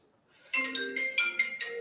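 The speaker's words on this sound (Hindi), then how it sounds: "फोन आ गया बेटा, फोन आ गया" A mobile phone ringtone plays indoors during a chemistry lecture, a short melodic run of bright electronic notes in quick rhythmic pulses, clear and close, with no talk.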